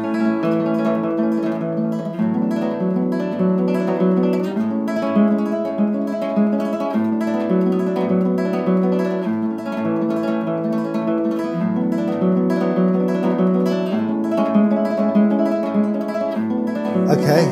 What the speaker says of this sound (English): So let's start with the classical guitar.